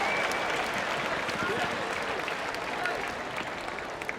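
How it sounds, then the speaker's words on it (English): A large arena crowd at the 2018 CrossFit Pacific Regional men's event claps and applauds in a dense, steady wash of sound that holds evenly for the whole stretch without fading. "give yourself a round of applause"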